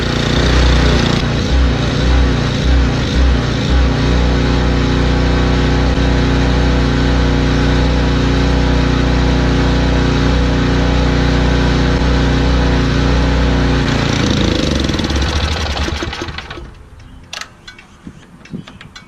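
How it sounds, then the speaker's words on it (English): A snowblower engine runs loud and steady up close with the choke turned up, then sputters and dies out, leaving a few faint clicks afterward. "As she starts to die out, you want to turn up the choke to get it to suck up all the fuel in the carburetor."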